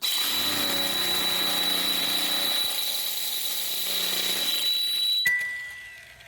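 An electric drill, not a hammer drill, whines loudly and steadily for several seconds, then winds down and stops, leaving a faint fading hum.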